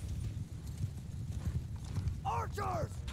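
Horses whinny and hooves clip-clop in a Mount & Blade II: Bannerlord battle, with two clear neighs near the end over a steady low rumble of mounted movement and faint voices.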